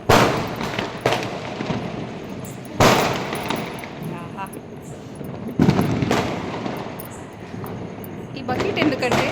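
Diwali firecrackers burst outside a home in sharp, loud cracks at irregular intervals, separated by a steady crackle of smaller pops, while a voice talks throughout.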